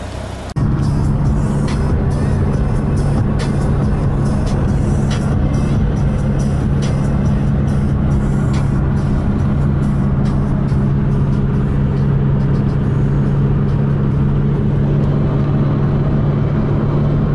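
Cars, including a Mercedes and a police car, pull into a petrol station with a steady, loud engine drone that runs throughout.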